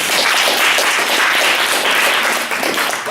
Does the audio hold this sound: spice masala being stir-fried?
no